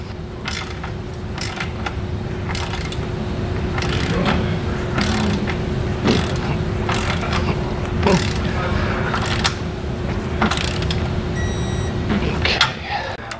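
Ratchet wrench torquing base plate bolts on a 2021 Jeep Wrangler during a Roadmaster Direct-Connect base plate install, heard as repeated bursts of clicking strokes over a steady background hum.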